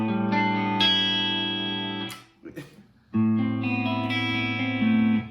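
Clean electric guitar through an amplifier, sustained chords without effects, ringing out, then a short gap before another held chord.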